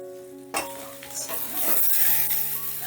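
Vegetables sautéing in a pan for a bottle gourd greens dal, with a lid clank at the start and then a rising, close sizzle with stirring scrapes and faint tonal ringing from the cookware underneath.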